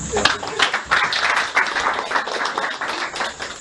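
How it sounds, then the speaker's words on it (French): A church congregation breaks into steady applause, a dense, continuous patter of many hands clapping at moderate loudness for the whole stretch. "Applaudissez pour ses frères."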